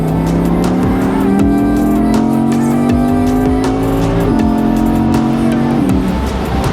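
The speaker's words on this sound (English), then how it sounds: "so here we have it, the Audi R8 Spyder. 620 brake horsepower" Loud Audi R8 V10 Performance Spyder engine roaring close by, revving steadily upward with brief dips between gear changes.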